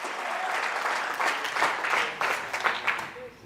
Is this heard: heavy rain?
no